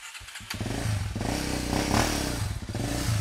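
Off-road motorcycle on a hard enduro trail, engine revving loud and close with rising and falling throttle bursts, plus some clatter and scraping from the terrain.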